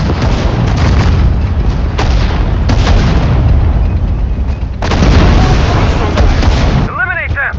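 An artillery gun firing in the World War II strategy game Sudden Strike 4 during the Balaton defensive operation, several heavy booms and blasts over a dense battle din, with unit voice callouts mixed in.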